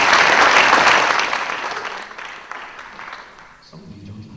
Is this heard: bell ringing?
no